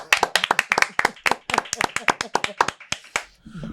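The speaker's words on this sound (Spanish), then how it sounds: "Y yo creo que eso merece un aplauso." A small group claps steadily in a podcast studio, a quick run of about two dozen sharp, close claps in even rhythm that thins out near the end as a voice comes in.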